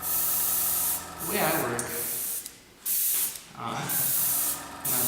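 An airbrush loaded with acrylic house paint sprays in several bursts, each a loud, close hiss separated by short pauses, with a voice speaking briefly between them.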